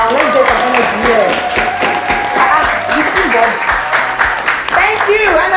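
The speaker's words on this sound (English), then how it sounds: "You guys clap for her now." An audience at a blindfolded cooking battle show claps steadily for a contestant who has just served the judges. The applause runs continuously for several seconds with voices and cheering mixed in.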